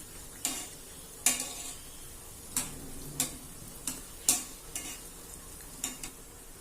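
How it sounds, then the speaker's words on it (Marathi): Balushahi frying in oil until golden on both sides, a low steady sizzle punctuated by regular sharp clinks of a utensil against the pan, with no talking. "आणि आता आपल्याला ह्या दोन्ही साईडनी खरपूस होईपर्यंत तळून घ्यायचे आहे"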